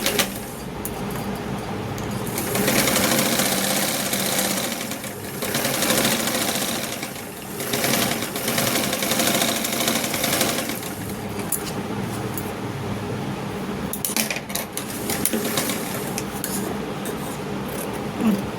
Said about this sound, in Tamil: இப்போ வந்து இதை ஸ்டிச் பண்ண ஆரம்பிங்க